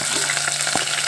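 Green chillies frying in a hot pan with onions, a dense continuous sizzle and crackle that stays loud throughout, with a brief stir near the end.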